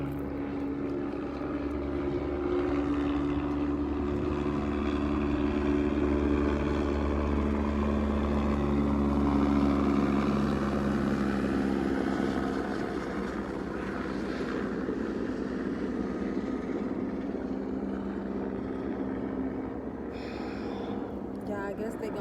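A propeller aircraft circles overhead, a steady droning engine hum that swells slightly and then eases over twenty seconds, with a person talking beneath it outdoors.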